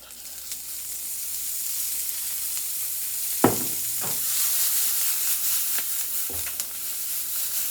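Olive oil sizzles in a pan as a vegan quesadilla is started, giving a steady, close frying hiss that swells slightly, with a few sharp clanks of cookware on the stove.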